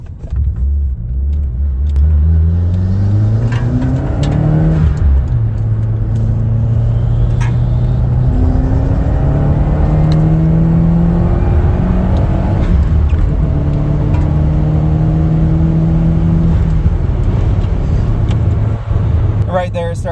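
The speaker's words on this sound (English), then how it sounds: "started doing a little top end misfire stuff again right before I let off there" A Subaru WRX engine climbs through the revs in repeated pulls, loud and close, its rising drone breaking into rough, stuttering top-end misfires before easing off.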